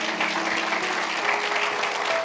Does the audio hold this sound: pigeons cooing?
no